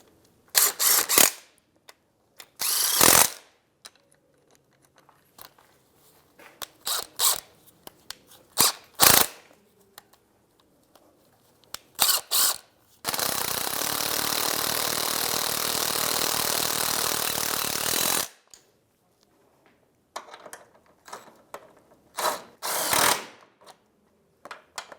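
Ratchet with a 14mm socket tightening CV axle bolts on a 2011-2016 Hyundai Elantra, sharp intermittent clicks and bursts followed by a sustained loud power-tool run of about five seconds, then more scattered clicks.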